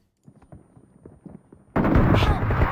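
Shotgun fire in a video game erupts as a sudden, loud, close blast partway through and keeps booming to the end, after a stretch of quiet, patchy in-game rustling and thuds.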